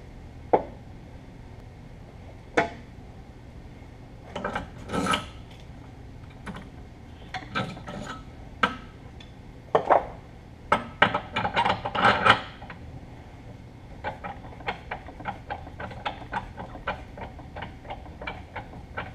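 Cutting a 3/4-16 fine thread on a metal part held in a vise at a welding table, a series of irregular scraping clicks and ticks that grow denser midway, close and alone.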